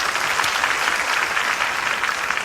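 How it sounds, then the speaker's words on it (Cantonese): A theatre audience at a 1990 stand-up comedy show claps steadily for the full stretch, a dense, even wash of many hands without voices. "中意李小龍嘅拍拍手聽下好唔好啊"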